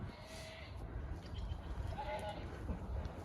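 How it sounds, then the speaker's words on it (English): A goat named Hazel lets out an odd, wavering bleat on a smallholding, a couple of faint calls heard over wind and background rumble. "That funny noise isn't a goat in pain, by the way, it's Hazel's random bleat."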